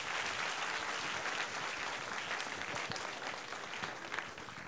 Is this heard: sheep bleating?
no